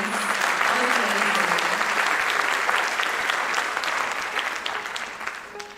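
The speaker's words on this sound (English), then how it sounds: "can we get another round of applause for the musicians?" A full audience applauds the musicians at a Bharatanatyam Rangapravesam dance debut, with loud, sustained clapping and a faint voice beneath it that fades slightly near the end.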